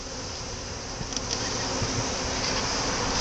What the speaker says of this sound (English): There's probably a ton of bees on the back side of that thing